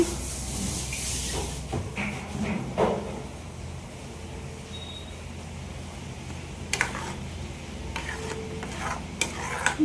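Mango and coconut filling for bobbatlu simmering and bubbling in a pan, a steady soft sizzle and hiss with occasional stirring scrapes, no talking.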